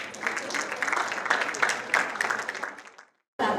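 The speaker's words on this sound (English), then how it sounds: "Let's start the session with a big round of applause." Brief applause from a literary session audience, dense and moderately loud. It drops to sudden silence, then a short burst returns.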